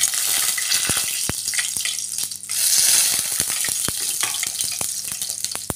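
Two bay leaves dropped into hot oil: a close, continuous crackling sizzle with scattered sharp pops and a short surge partway through, with no talking.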